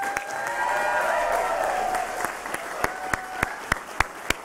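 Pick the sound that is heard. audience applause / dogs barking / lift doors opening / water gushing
audience applause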